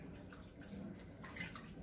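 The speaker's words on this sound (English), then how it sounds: "I'm going to let this water out of this side of the sink." Rinse water drains out of a kitchen sink after grapes have been washed in it, making a steady gurgling flow with soft splashes.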